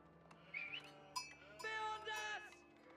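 Sheep in the Age of Empires video game give several short bleats, faint and thin against a soft game soundtrack.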